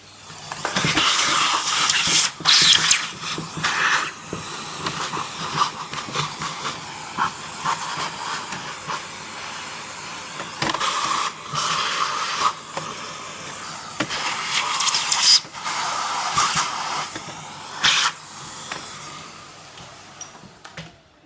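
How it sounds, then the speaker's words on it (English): A vacuum cleaner sucks dirt and dust from around a Roomba's motor, giving a loud, steady hiss with fluctuating airflow surges as the nozzle moves, alone without talk. "So once again, we get the vacuum cleaner."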